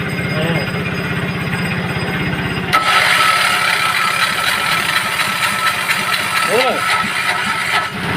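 An engine self-starter cranks while the engine runs, then the motor catches and settles into a steady mid-pitched idle with a brief rev, close and loud, with voices talking over it.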